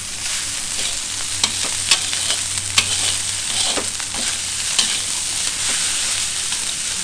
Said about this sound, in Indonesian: Diaduk sampai kering, sampai dia agak kering itu kan dia tak lengket nasinya